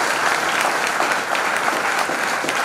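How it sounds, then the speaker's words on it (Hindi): Sustained audience applause fills the hall at a women's empowerment and legal literacy theatrical presentation, a steady dense clapping that stays loud and even throughout with no talk over it. "तालियां इनके लिए बजाएंगे"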